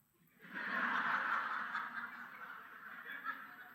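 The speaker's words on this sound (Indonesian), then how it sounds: "ayam." A single sustained honking fowl call, chicken-like, rings out clearly for a few seconds against a quiet background, tapering off toward the end.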